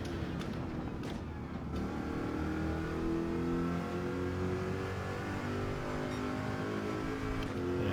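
A race car engine in Gran Turismo 7 holds a loud, steady roar at full throttle, with layered harmonic drones rising slightly in pitch across the whole stretch.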